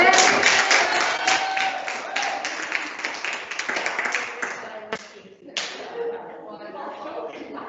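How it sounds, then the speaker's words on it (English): Classroom audience applauds after a student Genius Hour group presentation, a dense patter of claps that fades and trails off into a few scattered ones, with faint voices beneath. "round of applause"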